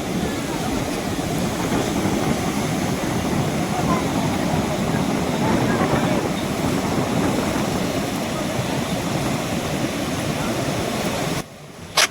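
Sea surf rolls onto the beach at Puri on an afternoon when families crowd the sand, a continuous, fairly loud roar of breaking waves that cuts off abruptly near the end.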